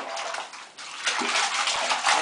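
A baby kicks and splashes in bath water, giving a steady wash of sloshing and spattering with a few sharper splashes toward the end, close by and without talk.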